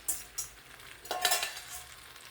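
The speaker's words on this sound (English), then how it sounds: "now it's time to whisk in this sauce, this special sauce" A whisk beats a special sauce for Kung Pao chicken in a hot pan, with quick scraping strokes and short bursts of sizzling and metallic stirring.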